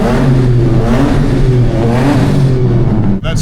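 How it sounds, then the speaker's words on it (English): A Ford AU Falcon with a stage 4 cam drives through a road tunnel, its engine loud and close with a lumpy, throaty drone that surges in revs, briefly dipping just before the end. "That stage 4 cam sounds good, Care."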